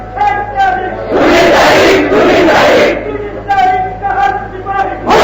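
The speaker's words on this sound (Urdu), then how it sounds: "آپ نعرے لگائیں گے تو آپ کا وقت جائے گا" Large crowd at a religious gathering in Gujranwala chanting slogans in loud, rhythmic bursts with brief gaps between shouts, voices blending into a broad roar that swells and falls several times.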